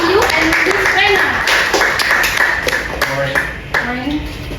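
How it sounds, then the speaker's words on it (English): An audience claps at a talk show event with two guest speakers. The applause is dense and fairly close, and voices talk over it throughout. "let's give a round of applause to our two speakers"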